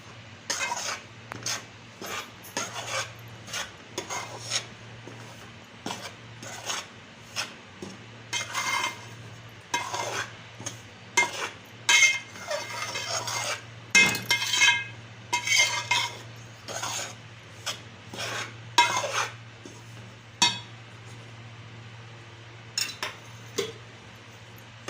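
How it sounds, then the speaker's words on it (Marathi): Dry ragi (finger millet) flour roasted in a pan with no fat yet, stirred steadily with a spoon, giving repeated close scraping and clinking strokes over a low steady hum, without any talking. "आधी असं कोरडंच भाजून घेऊ."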